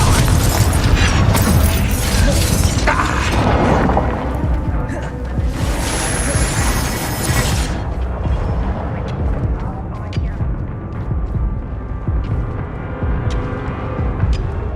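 A Confringo fire spell explodes during combat in the Hogwarts Legacy video game. Loud booming blasts and rumbling impacts fill the mix, with a brief bright burst partway through, and a voice talks over the game sound.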